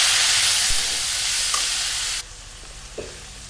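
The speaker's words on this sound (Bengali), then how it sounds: "আমি এখানে মশলাটা একবারে কষায় নেব। এখানে আমি সব কিছু দিয়ে নিচ্ছি।" Spice paste fries in a pan with a loud, dense sizzle that drops suddenly to a quieter hiss partway through, with a few clinks from stirring.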